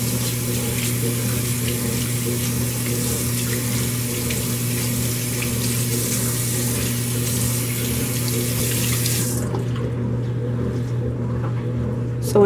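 Tap water running steadily into a sink while a makeup brush is rinsed under it, a constant close splashing hiss with a low hum beneath, ending abruptly as the flow is cut off near the end.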